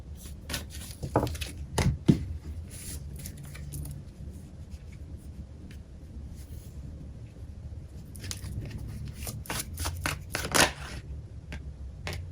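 Tarot cards shuffled and riffled by hand during a psychic reading, with soft papery flicks and riffles in bursts near the start and again toward the end, close and fairly quiet.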